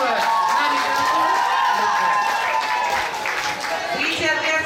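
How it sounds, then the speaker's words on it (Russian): A concert audience applauds for Alexei Bakanov at a creative competition, steady dense clapping filling the hall under a lingering voice and crowd noise. "Итак, аплодисменты Алексею Баканову."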